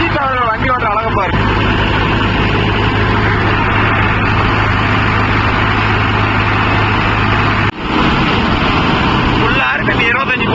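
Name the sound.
Mahindra Yuvo Tech Plus 585 4WD tractor engine at full rpm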